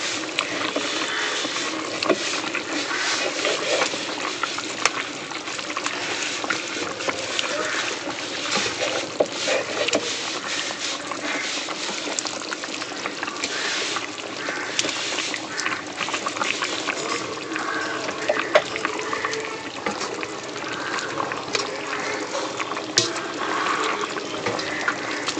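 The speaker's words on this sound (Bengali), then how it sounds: "মাছের ঝালটা ভালো করে ফুটে গেছে" Fish curry bubbling at a steady rolling boil in a covered pot, a dense continuous wash of bubbling and hissing that stays fairly loud and even throughout, with no talking.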